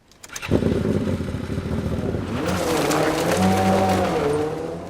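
A car engine bursts into life and revs hard as the vehicle speeds away, a loud, close growl that rises in pitch and stays strong to the end.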